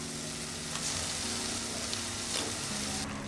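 Cooked goat head goes into a pan of sizzling, oily masala, giving a steady, soft frying crackle with faint stirring clinks and no talk.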